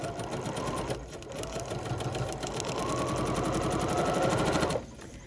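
A sewing machine stitches pieces of a quilt block in one steady, continuous run of close, rapid needle chatter that stops abruptly just before the end.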